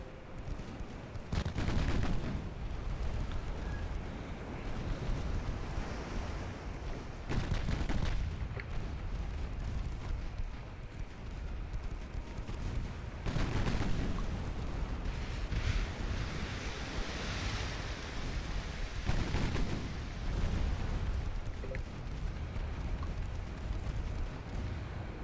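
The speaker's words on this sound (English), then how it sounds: "these quad 6-inch guns are pretty nice" Naval gunfire from quad 6-inch guns in Ultimate Admiral Dreadnoughts rolls out in several heavy booming volleys spaced a few seconds apart, over a constant rumble of sea and battle ambience.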